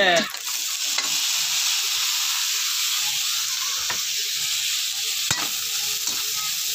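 Sliced sayote hitting a hot pan of browned meat in a Filipino gisado, a loud steady sizzle and hiss with occasional scraping clicks from stirring, no voices.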